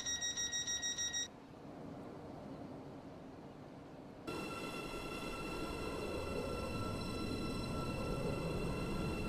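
A Roblox SCR train on the Waterline service runs steadily with a constant rumble and tonal whine. A high electronic chime pulses at the start, then the sound drops to a quieter hum before the louder running noise returns.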